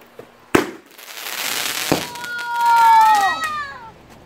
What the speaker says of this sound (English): It's a crackle popper. Right here in the middle of the street.